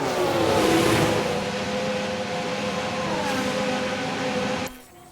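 Racing car engine in the F1 Manager 2022 video game, a loud sustained high-revving whine that shifts in pitch as the car spins out, ending with a sudden drop in level.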